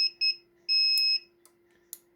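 A diagnostic tester module for trailer and semi-trailer lighting, nine-channel, gives a few short electronic beeps followed by one longer steady tone, then falls quiet apart from a couple of faint clicks.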